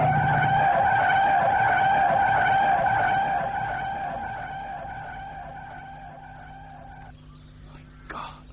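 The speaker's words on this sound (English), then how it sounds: "There's a bike coming and it's too fast" Motorbike racing in too fast in a British crime show, with a loud sustained tonal squeal of skidding tyres that fades over several seconds, ending in a brief clatter.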